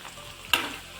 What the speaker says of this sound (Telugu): అందుకని ఇలా వేయించుకుంటున్నాను